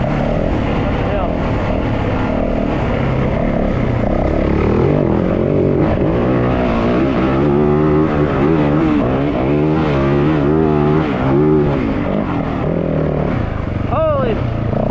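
An uncorked Yamaha WR450F dirt bike climbs a hill through tight left-right turns, its engine revving up and down in loud, rising and falling surges close to the rider, with a brief higher whine near the end.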